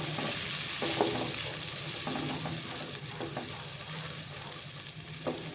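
Tomato and green chili paste sizzles in a pan for spicy aloo ki katli, with soft, repeated scraping strokes as it is stirred and fried over a steady hiss.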